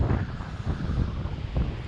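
Steady low, rumbling wind buffeting the microphone by the sea, continuous and fairly loud throughout, with gusty swells and no voices.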